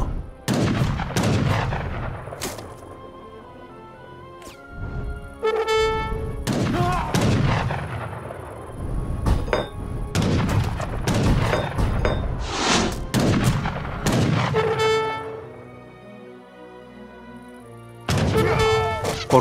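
Bombards in Age of Empires 3 fire a steady barrage of heavy booming shots with crashing impacts, dense and loud throughout, with battle clatter between blasts.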